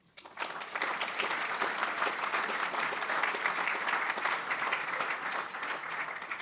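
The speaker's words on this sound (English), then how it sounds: "Please give yourselves a healthy round of applause." Members of the audience at a Be Original Americas annual meeting give themselves a round of applause: a quick rise into full, steady clapping that holds evenly for several seconds, moderately distant and without speech.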